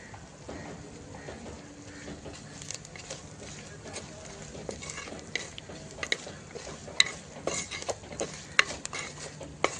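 Sesame seeds sizzle and pop in hot oil with onion and curry leaves, with occasional scrapes of a spoon stirring in a pan, crackles sharpening toward the end.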